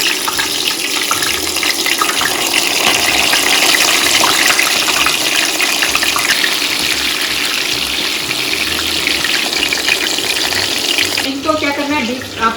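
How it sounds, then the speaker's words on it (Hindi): Stuffed bitter gourd (karela) fries in hot oil, giving a loud, continuous, close sizzle that holds steady throughout, with a brief clatter at the end. "आराम से आप डालिए, फ्राई करते हुए बहुत ध्यान रखें।"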